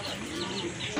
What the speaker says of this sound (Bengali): আরেক জোড়া কবুতর গ্রিজেল কবুতর,